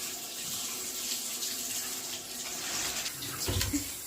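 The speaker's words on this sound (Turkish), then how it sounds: "Uzan musluğa. Yıka bakalım." A kitchen tap runs steadily as aquarium stones are rinsed under it, a soft continuous splashing stream with a brief louder gush near the end.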